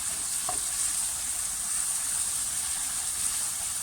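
Constant bright sizzle of food sautéing in hot butter and oil, steady and close, with no talking.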